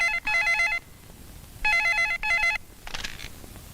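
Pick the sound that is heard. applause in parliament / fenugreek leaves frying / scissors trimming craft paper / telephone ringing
telephone ringing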